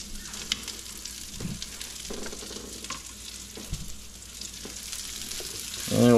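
Fiddleheads fry in a pan with butter, giving a steady, close sizzle and crackle with faint stirring scrapes, rising in loudness right at the end.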